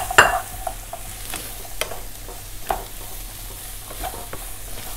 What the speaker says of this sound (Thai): ก็ผัดไปสักพักก่อนนะคะ